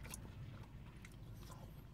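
Close, wet chewing and biting of Costco poutine fries during a car mukbang, with steady mouth sounds and a few sharper crunchy bites over two seconds, no talking.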